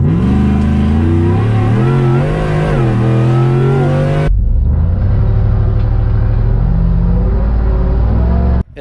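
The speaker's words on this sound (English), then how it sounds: "We put it in 4-wheel high and try to launch, and you can see how much bounce we've got in the rear end." A supercharged Ford F150 pickup in four-wheel high launches hard with rear wheel hop, its engine revving loud and close with a wavering, rising roar, then dropping into a deep, steady rumble before cutting off abruptly.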